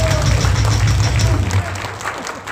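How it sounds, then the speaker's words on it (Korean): A rally crowd claps loudly and continuously to welcome a speaker. Thick, sustained applause runs over a low steady hum from the sound system and softens slightly near the end. "뜨거운 박수 부탁드리겠습니다"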